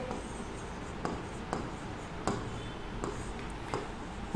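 Handwriting by a teacher during a lesson: steady scratchy strokes with small taps at intervals, close and fairly quiet, with no talking.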